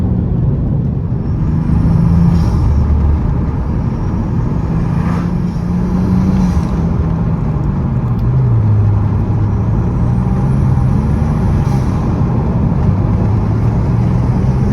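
Toyota Aristo V300 Vertex edition engine idling with low rumbling and brief rising revs from light accelerator blips, close and steady, with faint high whines recurring above.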